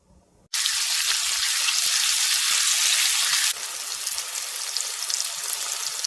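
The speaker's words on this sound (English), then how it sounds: "because of hissing and screaming of meat and veggies while it's frying in the hot oil" Loud, steady sizzling and hissing of chicken, eggs and onions frying in hot oil, starting abruptly and continuing close up, easing slightly partway through.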